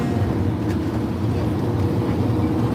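Engine rumble of a harbour ferry heading out to Manly beach, a steady low drone with water wash running throughout, loud and close, with a few voices faintly underneath.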